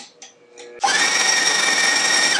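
An electric hand mixer whirs loudly and steadily as it blends cream cheese for a strawberry cheesecake, starting abruptly after a moment of quiet kitchen clatter.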